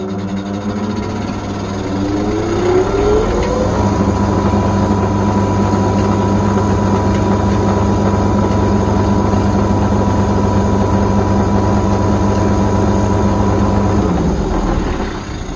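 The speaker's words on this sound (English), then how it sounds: "So let's set the lathe up and go again." A workshop lathe spins a CD, its motor holding a steady loud hum with a rising whine as it spins up, running continuously before winding down near the end.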